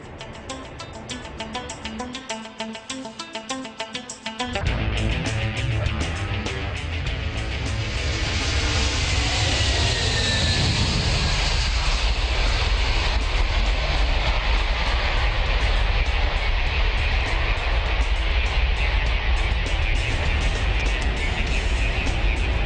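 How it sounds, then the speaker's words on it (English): Antonov An-225, a 500-ton giant cargo plane, taxiing with a loud, steady roar of jet engines that swells after a brief lull and holds close and continuous throughout. "This is it, the Antonov 225, the biggest plane in the world, 500 tons of it now. It's taxiing."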